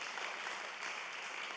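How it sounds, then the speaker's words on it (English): A conference audience applauds the event organizers with dense, steady clapping that carries close and loud from start to finish. "we can as well give a round of applause to the organizers"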